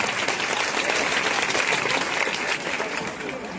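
Dense audience applause fills the space, a continuous wash of many hands clapping at close range with no break, easing slightly near the end.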